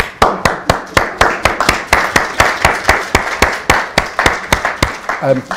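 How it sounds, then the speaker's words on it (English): Steady, rhythmic clapping from an audience at a literary reading and conversation, with sharp, evenly spaced hand claps repeating about four times a second, fairly close and loud, throughout. "And after the applause"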